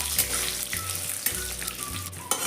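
Peanuts, red chilli and curry leaves roasting in hot oil, a bright crackling sizzle with a few soft stirring thumps, close and steady over a brief stretch.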